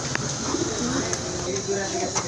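Pigeons at a pigeon farm coo in low, rolling bursts that overlap steadily through the short stretch, close by and moderately loud, with faint scattered chirps and some background voice activity.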